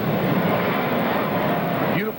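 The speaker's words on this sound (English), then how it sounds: "Planes overhead." Jet airplanes flying low over Shea Stadium in New York during a night baseball game, a loud sustained engine roar that swells and fills the whole moment.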